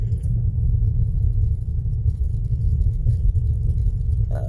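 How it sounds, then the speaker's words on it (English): A car with a sluggish automatic transmission driven in normal mode, a steady low engine rumble and drone heard from inside the cabin with no distinct shift change. "You can put it in normal driving, and the shifts are very sluggish here."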